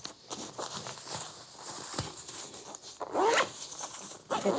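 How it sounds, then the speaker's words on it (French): A jacket zipper is drawn shut in a short ripping pull, preceded by rustling fabric and light shuffling movement close by. "La fermeture éclair est pas très solide."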